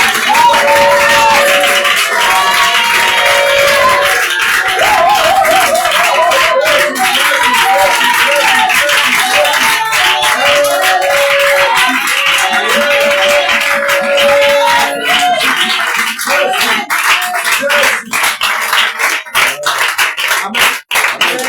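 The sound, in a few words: church congregation applauding and acclaiming Jesus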